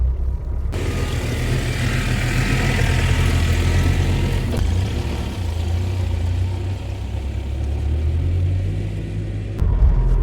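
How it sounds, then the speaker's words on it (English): A low, steady diesel engine rumble of a Tata Safari off-roading in a field drones throughout, heavy and close, with a slight shift in tone partway as the vehicle moves. "proper low slogging diesel engine"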